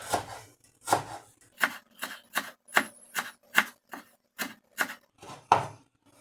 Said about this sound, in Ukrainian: Ще нам потрібний укропчик дрібненько поріжемо наш кріп.